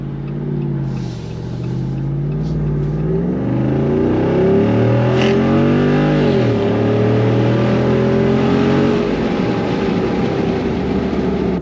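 A factory Jeep Wrangler 392 V8 launching hard with the tires wanting to spin: a loud, close engine note climbs steadily, drops briefly at a shift, then keeps pulling with a rough growl. No talking.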